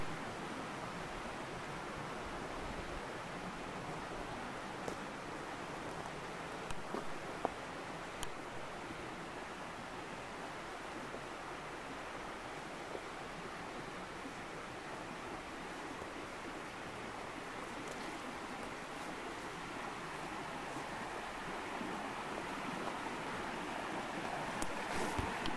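A woodland stream flowing during a late-summer hike: a steady, faint broadband wash of running water, continuous and even throughout, with a few tiny clicks and no talk.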